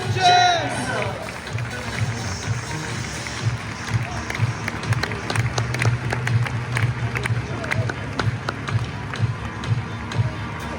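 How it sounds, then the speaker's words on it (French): Stadium crowd at a football match cheering and applauding a player as he is introduced, a steady dense roar with clapping and shouts throughout, loud and continuous. "Applaudissements pour notre numéro 66, Isaac James."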